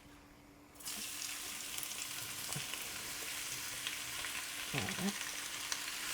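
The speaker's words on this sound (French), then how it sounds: "Donc ici dans l'huile, j'ajoute les légumes." Vegetables drop into hot oil and fry with a sudden loud burst of sizzling that settles into a steady close hiss, with a brief clatter of stirring and a short spoken word partway through.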